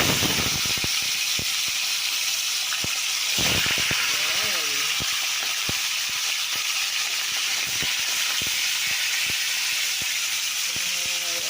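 Fish sizzles loudly in hot cooking oil, a dense constant crackling hiss filling the whole stretch, punctuated by sharp pops and clicks, with a voice now and then over it.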